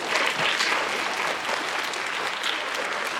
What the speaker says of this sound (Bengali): স্যারের জন্য জোরে একটি করতালি